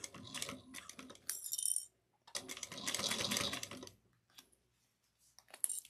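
Sewing machine stitching a zipper seam at a 3/8-inch allowance, heard in several bursts of rapid mechanical clatter separated by short pauses, close and fairly quiet.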